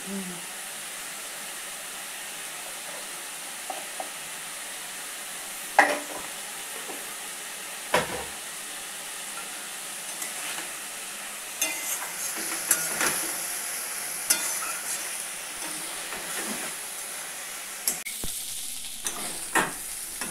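Dhenki greens stir-fried with turmeric in a pan give a soft, steady sizzle broken by scattered scraping and clanking of the spatula, fairly close, with faint background noise.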